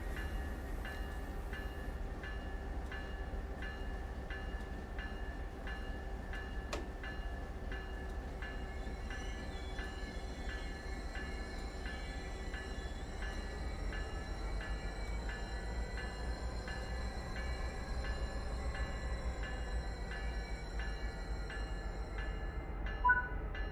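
A simulated train runs in the video game Train Sim World 3, giving a steady, continuous rumble with a faint horn-like tone near the middle and no talking.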